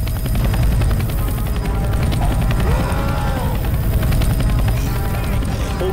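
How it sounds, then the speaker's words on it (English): Helicopter from the Left 4 Dead 2 video game on the Dark Carnival map, a steady loud rotor thump and engine drone filling the whole stretch, with faint game noise and a brief voice underneath. "There's the chopper."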